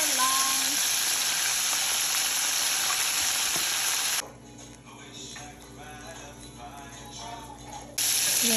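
Chicken deep frying in hot oil, a loud steady crackling sizzle that drops to a quieter bubbling for a few seconds, then surges back to full strength.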